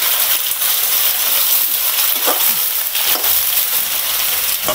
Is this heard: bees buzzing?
no